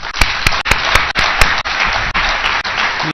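A crowd claps loudly for two speakers at the end of a talk, with sharp individual claps standing out over the dense applause.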